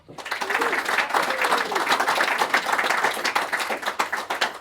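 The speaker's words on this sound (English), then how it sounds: "Big round of applause." At a book review gathering, an audience breaks into applause that swells quickly and holds as dense, close clapping, with a voice briefly heard under it.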